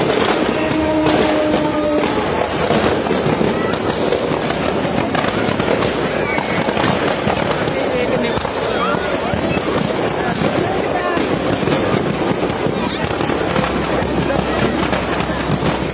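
The Amritsar-Jalandhar DMU express rumbles and clatters past a dense crowd, with firecrackers popping and crackling throughout. Loud, continuous noise from the crowd mixes with shouting voices.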